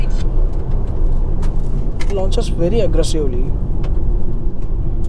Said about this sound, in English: I love the way in which this vehicle launch. It launches very aggressively.